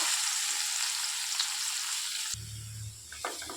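Soaked soya chunks fry in spice masala in a pan, producing a close, steady sizzle that cuts off abruptly partway through, followed by quieter low clatter and stirring.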